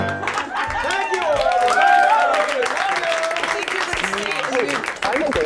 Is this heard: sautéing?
no